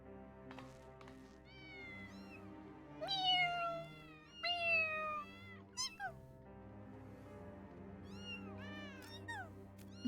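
A cat meows several times in a Final Fantasy XIV cutscene, clear rising and falling cries over a steady background music bed, with short gaps between calls.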